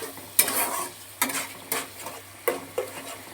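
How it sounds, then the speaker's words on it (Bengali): A spoon scrapes around a pan of spice masala loosened with water, making regular stirring strokes about every second over a soft, wet sizzle, close and without talk. "এবার জল দিয়ে ভালো করে মশলাটাকে কষিয়ে নিচ্ছি"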